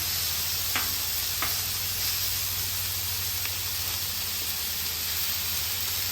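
Pork chops sizzling on a hot griddle, a loud steady hiss that fills the whole stretch, with a few faint taps of the cook's tools.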